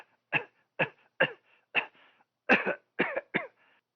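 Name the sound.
audiobook narrator imitating a cough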